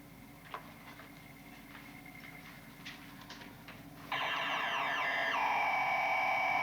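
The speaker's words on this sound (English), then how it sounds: "Central computer gave a collision alarm, sir." Spaceship central computer sounding a collision alarm as an asteroid approaches: a loud, steady electronic alarm tone cuts in abruptly after a few seconds of quiet ticks and faint beeps, then holds at full level to the end.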